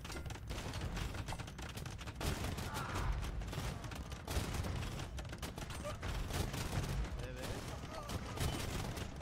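An Age of Empires battle with bursts of massed gunfire and bombard cannon booms that repeat at irregular intervals throughout. A commentator talks over the fighting.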